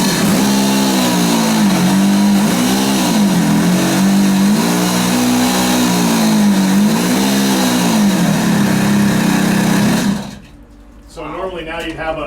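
The engine of a coal mine scraper throttles up and runs loud and close with a droning, wavering pitch for about ten seconds, then cuts off, and a voice speaks afterward.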